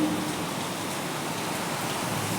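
Steady, dense rainfall pours down without pause, a broad continuous hiss of heavy rain hitting surfaces nearby.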